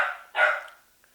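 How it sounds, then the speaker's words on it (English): A teething puppy gives two quick, close barks indoors, the second sharper and louder, followed by silence. "right now I think he's barking at the empty dog food bag on the kitchen floor"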